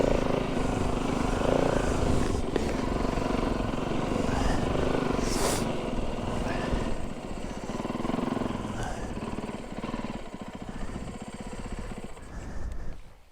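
A snow bike engine revs and drones continuously while churning through deep snow, loud and close, the pitch rising and falling, with a few faint voices underneath.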